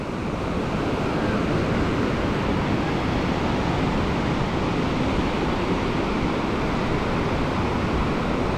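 Indian Ocean surf off Bali fills the clip with a continuous broadband roar of breaking waves and wind, steady and fairly loud, with no voices.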